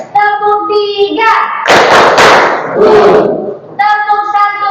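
A class of students claps in quick unison bursts after a teacher's spoken cue, the loud hand claps dense and close, with speech before and after.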